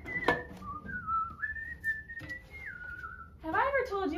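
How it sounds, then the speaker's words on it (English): Someone whistles a wandering melody of sliding, held notes, close and clear, with a brief voice near the end. "Have I ever told you how much I love your whistling?"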